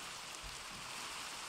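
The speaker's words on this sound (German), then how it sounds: "Warum regnet es denn jetzt?" Rain in the video game Minecraft, a soft, steady hiss of falling drops, quiet and unbroken through the short stretch with no talking.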